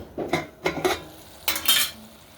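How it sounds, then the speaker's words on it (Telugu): A metal lid is set onto a cooking pot of tomatoes softening for broken-rice khichdi, giving several close clanks and rattles in quick bursts, with a faint sizzle underneath. "మూత పెట్టేద్దాం"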